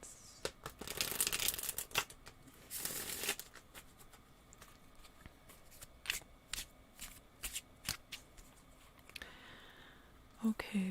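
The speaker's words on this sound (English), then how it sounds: "I'm almost done shuffling your cards" Tarot cards shuffled by hand, crisp riffling bursts followed by a run of quick close slaps and taps, soft and intimate, with a quiet voice murmuring at times.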